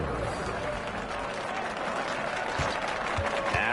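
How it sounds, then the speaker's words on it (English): Steady, dense applause from a large crowd fills the whole stretch, loud and continuous. "One more round of applause for your performers"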